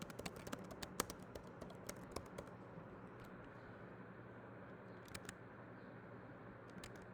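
Quiet computer keyboard typing of a name, a quick run of light key clicks at the start, then near-silence with a faint hum, and a few more taps near the end.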